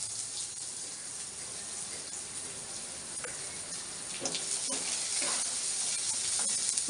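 Onion hitting hot oil tempered with mustard and cumin seeds for a musk melon curry, giving a steady broadband sizzle and hiss that grows louder in the second half, with faint crackles and no talking.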